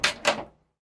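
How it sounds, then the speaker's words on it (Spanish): A house door opens with two quick, close knocks or clunks in a row, then a fast fade into silence. "Ya al llegar a casa abrí la puerta."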